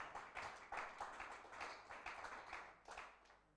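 A church congregation claps in quick, uneven bursts, a quiet spread of hands applauding in a roomy space that fades toward the end.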